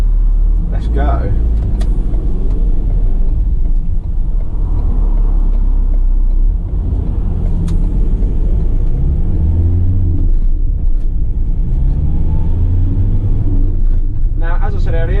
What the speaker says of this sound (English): Going to take it on a quick test drive, so let's start her up.